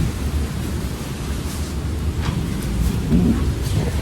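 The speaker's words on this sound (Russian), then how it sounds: "Песчаная буря первый раз вообще." Strong sandstorm wind sweeping through the Lusail waterfront in Qatar, a loud, steady roar of broadband gusting noise that rises slightly toward the end, with no voices.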